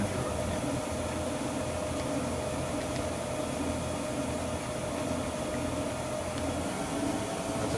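A 17 x 40 inch Bridgeport Romi EZ Path lathe with its spindle turning at 800 RPM gives a steady, even mechanical hum with a faint high whine, unchanging throughout.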